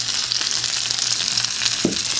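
Sliced onion rings and green peppers fry in a little oil, giving a steady, close sizzle throughout, with a brief stirring scrape near the end and no talking.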